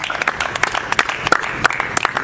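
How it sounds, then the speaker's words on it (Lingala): A church show audience applauds for a gospel group, a lively burst of many hands clapping with distinct sharp individual claps over a steady crowd wash. "Est-ce qu'on peut applaudir pour Orma Gospel?"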